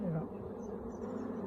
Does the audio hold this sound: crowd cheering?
no